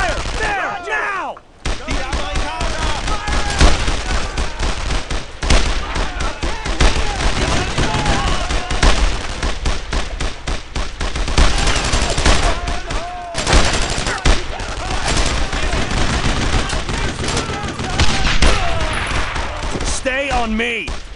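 Dense, sustained gunfire in the World War II shooter Brothers in Arms: Road to Hill 30, with rapid bursts and single shots cracking almost continuously over twenty seconds, loud and close, while soldiers shout orders over the battle.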